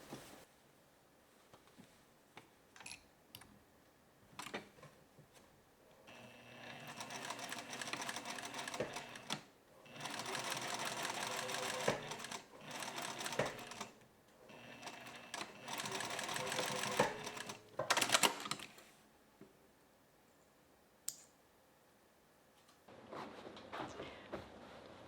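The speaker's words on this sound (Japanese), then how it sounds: "あき止まりにステッチをかけていきます。" A sewing machine stitches across the opening of an A-line dress in several long bursts of rapid mechanical whirring, separated by pauses filled with fabric handling and small clicks, close and steady.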